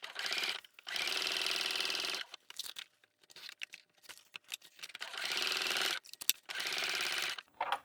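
A sewing machine stitches binding onto waterproof canvas with the gusset side down, in four long runs of dense mechanical whirring separated by short gaps of clicks and fabric handling.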